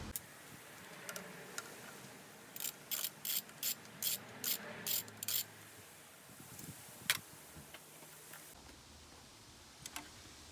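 A ratchet loosens the 13mm bolts on the fuel rail of a Mini Cooper S R53 during injector replacement, giving a run of sharp, rapid clicking bursts up close, then a few isolated clicks and taps.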